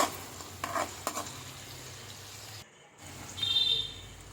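Cumin and shahi jeera crackle in oil for capsicum green-pea fried rice, a quiet sizzle with a few sharp ticks and clinks of a utensil, a brief drop to near silence, then the sizzle returns a little louder.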